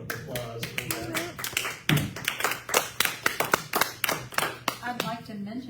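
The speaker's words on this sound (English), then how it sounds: "Let's give Les a big round of applause for that." A congregation at a church service gives a round of applause, heard as a sparse run of distinct, close hand claps in an irregular rhythm, with a voice faintly audible underneath.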